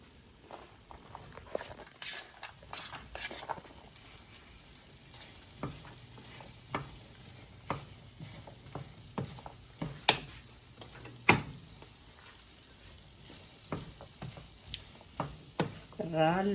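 Mixed vegetables frying in a pan with shrimp paste, under a soft continuous sizzle punctuated by many irregular stirring clacks and scrapes of a utensil against the pan, close and moderately loud throughout.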